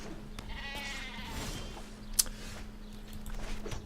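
A ram creature in MTG Arena lets out a bleat, a short wavering goat-like cry heard clearly early on, followed by a faint card-game click and soft background effects.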